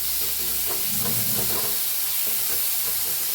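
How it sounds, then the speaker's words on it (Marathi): Chopped onion, green chili and garlic stirred and roasted in a pan for street-style vada pav filling, a steady soft sizzle with scraping spoon strokes close by, no voices. "आता ह्याला मी हलवून भाजून घेऊया"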